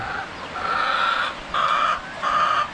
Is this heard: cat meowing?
no